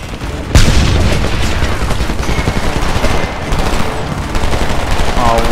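Sustained automatic gunfire from the Homefront video game, loud, dense bursts of rapid shots beginning with a sharp onset and continuing steadily to the end, with game effects layered in and no speech over it.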